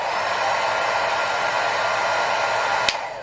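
A compact T3 hair dryer runs on its lowest of three settings, giving a steady, close whooshing blow of airflow with a motor hum, then a sharp click as the switch changes near the end.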